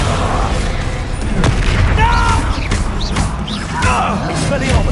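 Descendo spell effect in the video game Hogwarts Legacy, a loud magical boom and crash amid continuous combat noise, with whooshing bursts and shouted voices throughout.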